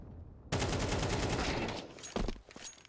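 Sustained automatic gunfire in a competitive first-person shooter match, loud rapid bursts starting abruptly and continuing, then a second burst of sharp shots near the end.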